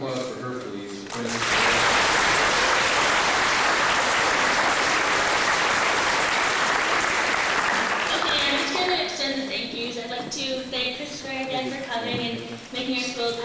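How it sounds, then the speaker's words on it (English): An audience at a school community event for Kristopher's Wish in Brighton, Ontario bursts into loud sustained applause after a brief murmur, then it thins as a voice starts speaking over the fading claps. "round of applause for her, please."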